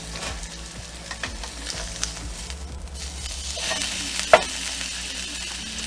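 A reverse-seared T-bone steak sizzles loudly in a hot pan just after being flipped, a continuous close crackling hiss with small pops and clinks of the utensil, no voices.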